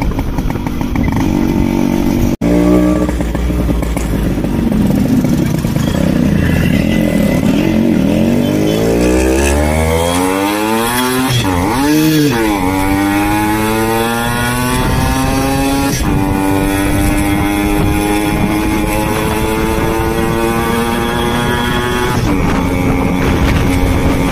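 A Yamaha RX100 motorcycle engine revs loudly and close, its pitch climbing and falling through repeated throttle sweeps over a steady two-stroke drone.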